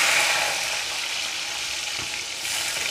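Food sizzling steadily in a hot pan on a home kitchen stove, a bright, even hiss with faint crackles that carries on close and unbroken.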